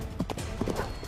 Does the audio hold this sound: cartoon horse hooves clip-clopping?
yes